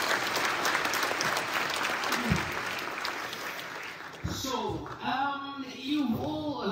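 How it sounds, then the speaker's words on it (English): Audience applause after a talk on mathematics, a steady wash of clapping for about four seconds before it thins out and a voice begins speaking over the fading claps. "Big round of applause, please."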